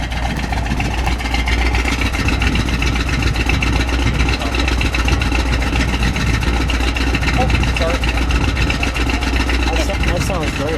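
A big car's exhaust rumbles at idle, a steady, close, even throb that holds for about eleven seconds without revving.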